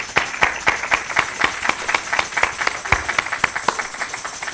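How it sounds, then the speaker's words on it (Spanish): A church congregation gives itself a round of applause, sparse, distinct hand claps in an irregular rhythm, fairly close, with no voices. "Pedirles que se den un aplauso ustedes solitos, amén."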